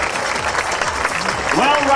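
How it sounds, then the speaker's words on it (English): Rodeo crowd applause at a Frontier Days rodeo arena, a steady wash of clapping spread across the stands, with an announcer's voice talking over it near the end. "How about a nice round of applause for all of our beautiful"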